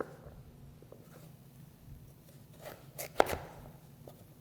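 A knife cuts sweet potatoes into even cubes on a cutting board, giving a short cluster of sharp chopping taps near the end after quieter, faint knocks in a soft kitchen background.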